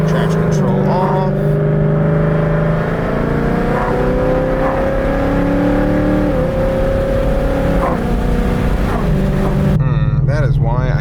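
A Gen 3 Coyote V8 car drives off under hard acceleration in sport plus mode with traction control off, the engine note climbing through rising pitch sweeps across a gear change, loud and close, with a voice briefly heard over it.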